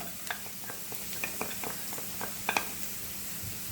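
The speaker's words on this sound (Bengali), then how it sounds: "পেঁয়াজটা হালকা একটুখানি সটে করে নিয়ে এর মধ্যে দিয়ে দেবো এই যে কুচি করে রাখা রসুন" Onion with chopped garlic sautéing in a pan for choripan with chimichurri, a soft continuous sizzle broken by light clicks and scrapes of stirring, fairly quiet and without talk.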